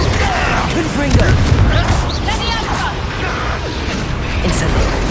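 Spell explosions from the Hogwarts Legacy video game, a dense, continuous barrage of booming blasts and bursts mixed with battle noise, loud and close, with no clear pauses between hits.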